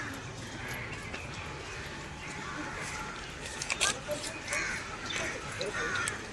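Many birds call from a tree where they gather to roost at evening in Ajwa Nimeta garden near Vadodara, a busy chorus of caws and cries in the distance while people talk nearby.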